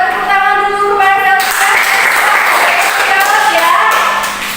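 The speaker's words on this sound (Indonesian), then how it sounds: "Tepuk tangan dulu kepada" Schoolchildren in a classroom clap their hands together, a dense, steady patter of applause that rises after a teacher's voice and carries on for several seconds, with some children's voices mixed in.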